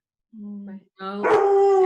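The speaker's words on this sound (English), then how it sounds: "That's my dog." A dog barks and howls in drawn-out tones indoors, overlapping with a person speaking nearby; the canine voice rises in pitch and sustains near the end.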